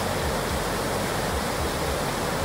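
River water flowing at a crossing: a steady, loud, broadband rush of water filling the whole clip without a break, with no voices.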